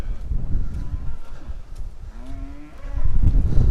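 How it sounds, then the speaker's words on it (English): A herd of cattle moos near a roadside field gate, with several low calls, one long drawn-out moo, and shuffling and rustling close by. "I'm swamped by a herd of cattle here"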